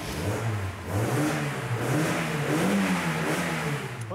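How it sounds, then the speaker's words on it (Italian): A car engine with a newly fitted air filter revs up and down steadily, loud and close, with a throaty rising and falling drone and no talking. "Ora che il nuovo filtro dell'aria è montato, sentiamo il suono del motore."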